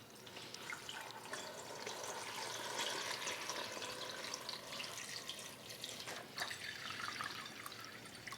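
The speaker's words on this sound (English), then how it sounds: "We're just going to cover this with water." Water pours steadily into a pot of pork bones and a cinnamon stick for bak kut teh, a soft continuous rushing and splashing with no voices.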